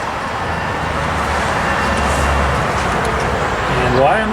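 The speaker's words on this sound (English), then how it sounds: "Why am I hearing sparking?" A 1979 AMC AMX engine cranking while a coil wire, chafed by a hose clamp, sparks, giving a steady, continuous mechanical drone with faint crackling throughout and a brief rising whine near the end.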